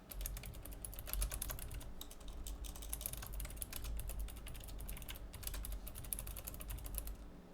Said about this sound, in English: There's the typing.